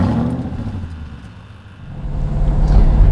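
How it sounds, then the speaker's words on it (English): A 2007 Aston Martin V8 Vantage driving on the road, close engine rumble dipping briefly and then swelling louder as it pulls away, with no talk. "out on the road in the Aston Martin V8 Vantage"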